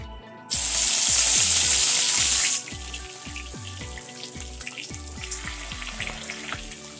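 Crushed ginger and garlic hit a hot frying pan with a sudden loud sizzle that holds for about two seconds, then drops to a softer crackle under steady background music.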